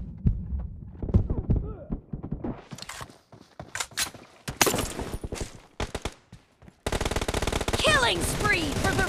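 Rapid automatic gunfire from the BGMI mobile game's team deathmatch mode, with dense bursts and single shots close up, ending in a sustained volley mixed with game announcer speech.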